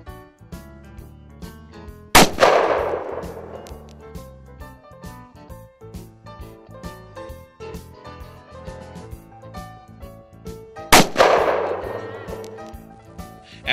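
Two loud, sharp rifle shots ring out several seconds apart during target practice at a range, each ending in a long decaying crack over a steady musical bed.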